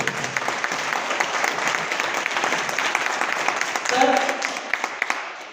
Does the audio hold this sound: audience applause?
yes